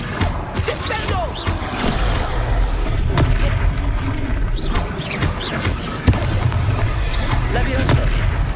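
A spell impact in the Hogwarts Legacy video game lands as a heavy booming crash, one of several magical blasts and thuds in a steady stream of game effects, with a voice speaking at points.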